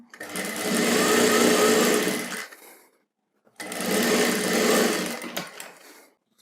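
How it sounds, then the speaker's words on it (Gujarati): A sewing machine stitches along a dress neckline in two steady, close bursts of whirring, with a brief pause between them and no talking. "એક જ્યાં સુધી ગળું છે ત્યાં સુધી સિલાઈ લગાવી લેવાની"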